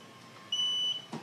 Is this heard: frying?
no